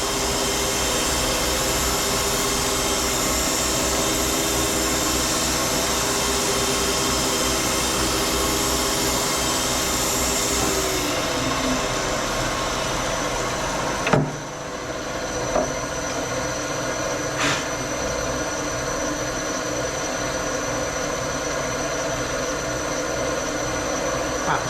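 A crankshaft grinder makes passes on a small block Chevy crank, producing a steady loud whirring grind with a high sustained tone. Partway through, the pitch drops as the wheel backs off, followed by a brief clunk and a continuing machine hum.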